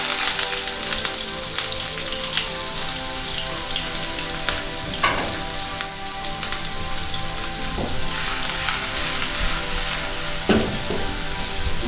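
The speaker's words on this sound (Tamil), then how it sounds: "வெங்காயம் போட்டுக்கிறேன். ஓகே." Onions sizzling and crackling steadily in hot oil for chicken fried rice, a loud continuous frying hiss with scattered pops and occasional stirring clatter, close and alone without talk.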